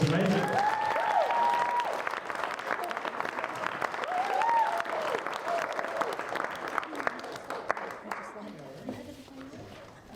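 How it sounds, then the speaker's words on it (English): Wedding guests applaud the bride in a reception hall, a sustained crowd clapping with cheers and voices mixed in, gradually fading toward the end. "give the bride a round of applause"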